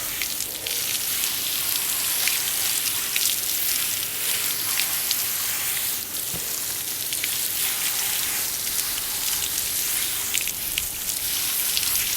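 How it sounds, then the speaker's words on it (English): Water steadily rinsing a removable part from an Eheim 2028 canister aquarium filter, a continuous broadband splashing hiss lasting throughout at an even, fairly loud level with no talking. "Give that a rinse."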